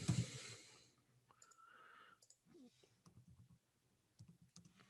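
Short bursts of quiet clicking keystrokes on a computer keyboard typing a test phrase, faint and close, broken by brief pauses.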